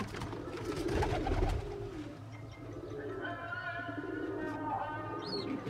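Young pigeons in a loft giving soft, low cooing calls, close and fairly quiet, with some shuffling and brief handling noise.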